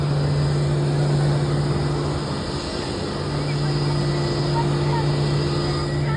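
Airbus A321neo engines drone steadily on the runway, a loud, even hum with a sustained low tone heard from inside the cabin, and people talk over it.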